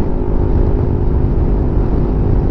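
A new motorcycle is ridden across a long bridge between Zaragoza and Bugason in Antique, its engine droning steadily and close with a constant rumble, mixed with wind rush and no talking.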